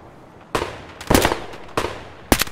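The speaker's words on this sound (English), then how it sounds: "They're shooting each other in there." Gunfire in a video game shootout at a cabin: four sharp, loud bursts of shots at uneven intervals, some close together in short volleys, with quieter background between them.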